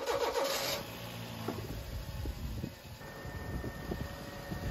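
A car engine cranks over during a battery crank test, a short burst of starter churning followed by the engine catching into a low, steady idle, fairly quiet and alone.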